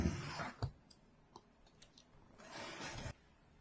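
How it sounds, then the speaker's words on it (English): A utility knife slicing open a cardboard box for a Pico 4 headset: two longer scraping cuts with faint clicks and rustles between them, close and fairly quiet, no talking. "This time we'll use a cutter to"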